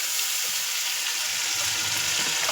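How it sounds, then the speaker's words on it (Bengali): Paste of onion, ginger, garlic and tomato frying in a pan, giving a steady, close sizzle with soft scraping sounds from stirring. "এবার এর মধ্যে একটু পেঁয়াজ বাটা, আদা বাটা, রসুন বাটা, টমেটো বাটা দিয়ে দিই"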